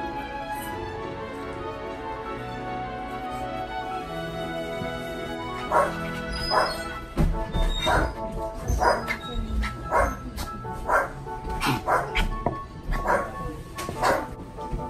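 Japanese Chin dog yipping and barking in a café, starting quietly and then firing off a rapid run of sharp, high yips close by over a steady background hum.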